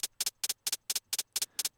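A programmed hi-hat pattern in FL Studio plays with swing, eight crisp, bright paired hits in a lilting long-short rhythm, clean and upfront with no talking.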